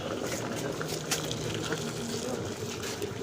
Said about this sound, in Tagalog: Yan, kulong-kulo siya ngayon.